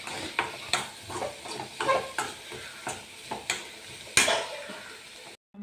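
Chicken fries in oil while a spoon stirs it, giving a series of rhythmic scraping and clanking strokes over a soft sizzle, loud and close, ending in a brief silence.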